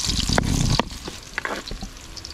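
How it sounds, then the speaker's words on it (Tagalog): Garlic and onion drop into hot oil for pancit kibaw, setting off a loud crackling sizzle at first that settles into a softer spattering fry with scattered utensil clinks. "ilalagay na natin ang mantika at isusunod na rin ang panghalo. Bawang, sibuyas"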